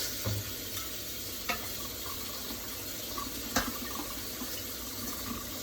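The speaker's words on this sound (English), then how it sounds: "So just let them set and then rinse them with cold water." Cold tap water runs over fruit being rinsed in a kitchen sink, making a soft, steady splashing hiss with a few light knocks. No one speaks.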